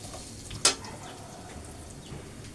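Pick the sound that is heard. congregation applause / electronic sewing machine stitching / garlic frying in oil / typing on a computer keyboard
garlic frying in oil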